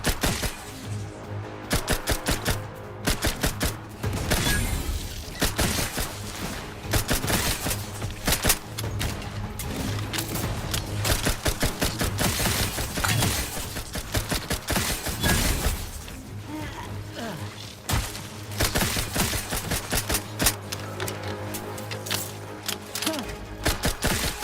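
Gunfire from The Outer Worlds 2 video game rattles in dense, rapid bursts and volleys, loud and nearly continuous with only short gaps, over a low steady hum.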